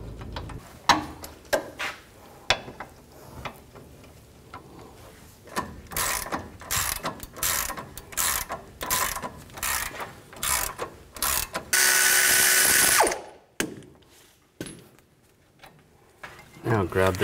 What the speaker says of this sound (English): Now I'm going to take out the brake caliper bracket bolts.